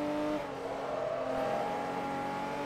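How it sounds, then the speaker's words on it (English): A racing car's engine in Forza Motorsport 3 holds a steady, loud revving drone during a tarmac rally, with a rising whine near the middle and no talk. "This is a beautiful sounding engine, I'll be honest."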